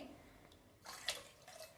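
A short, fairly quiet pour of water splashing into a pot on a gas stove for sambar, lasting under a second, with a few drips around it.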